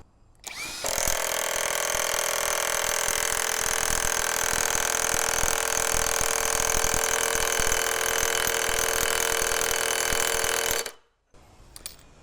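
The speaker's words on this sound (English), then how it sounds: "we're here with the 1350 Newton meter impact wrench" Ingco cordless 1350 Nm impact wrench fastening under test, one loud continuous high-pitched hammering whine lasting about ten seconds before cutting off abruptly, close up with no talking.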